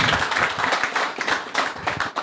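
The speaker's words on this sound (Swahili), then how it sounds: "Makofi kwa mwalimu." An audience at a public participation forum at Loresho Primary in Kitisuru Westlands claps for a computer teacher, a brisk burst of mixed handclaps that rises and fades in uneven waves.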